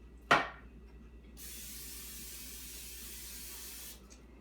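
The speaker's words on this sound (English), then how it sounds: "I use spray to spray the bowl." A sharp click, then a steady cooking oil spray hisses onto a bowl for about two and a half seconds before stopping, close and fairly loud.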